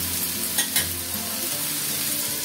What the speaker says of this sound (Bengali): আলুটাকেও আমি লাল লাল করে ভেজে নেব